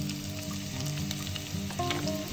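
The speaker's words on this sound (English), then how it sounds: "saute it well and wait until onion turns to light brown" Onions sautéing in a pan for mutton curry with spinach, with black cardamom and bay leaf, giving a steady close sizzle and crackle that runs unbroken throughout.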